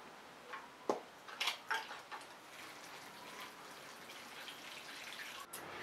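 Peat in small plant pots being watered, heard as a cluster of soft, close splashes and drips early on that fade into a faint, quiet trickle.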